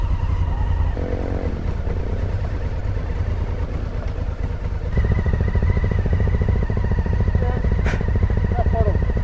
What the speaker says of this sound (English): If you feel that the bike is going to lose control, as silly as it sounds, just give it a little bit more throttle and it'll power through.